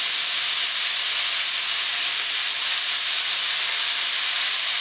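Masala for a tender jackfruit cutlet sautés in a pan with salt, giving a loud, steady, unbroken sizzling hiss close up, with no speech.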